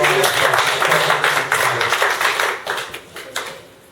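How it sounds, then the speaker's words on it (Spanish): Church congregation clapping in praise, a dense burst of many hands that stays strong at first and then thins and fades toward the end, with speech mixed in. "un not fuerte aplauso a Cristo"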